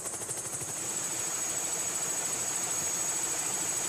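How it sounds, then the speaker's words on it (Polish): Helicopter carrying a LIDAR scanning device over the forested Angkor temple complex in Cambodia, a steady distant rotor drone with a high whine, forming a continuous even wash of sound. "Na pokładzie tego helikoptera znajduje się urządzenie o nazwie LIDAR."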